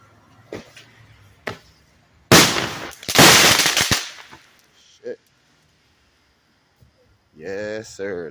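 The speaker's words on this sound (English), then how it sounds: "that's how I like fireworks" Sharp nearby cracks, then a loud burst of crackling bangs from fireworks going off at a fire pit, followed by people talking.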